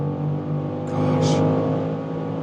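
A new BMW M5 weighing about 2.5 tonnes runs fast on a German autobahn. Its engine and road noise hold a loud, steady drone that swells slightly in the middle.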